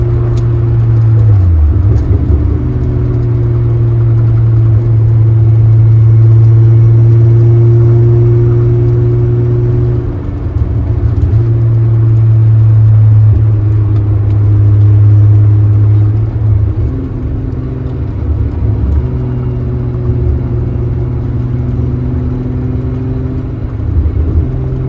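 A Volkswagen VR6 car cruising well past 100 mph on the Autobahn, its engine giving a loud, steady droning hum inside the cabin with slight shifts in pitch and constant road rumble, no talking.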